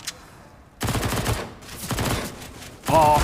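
MP9 submachine gun fire in Counter-Strike on the Mirage map during a DreamHack Open match, loud rapid bursts of automatic shots in several close volleys.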